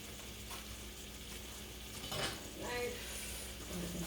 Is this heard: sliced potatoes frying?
yes